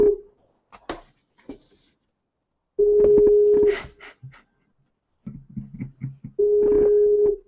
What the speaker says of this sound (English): Answer the phone, Big Nit.